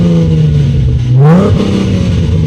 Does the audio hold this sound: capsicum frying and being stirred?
no